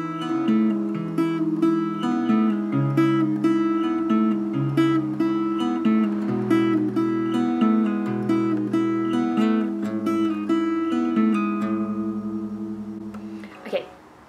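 Acoustic guitar playing the fingerpicked intro of a song: a steady flow of plucked notes over sustained low strings, clear and close, fading into a ringing final strum.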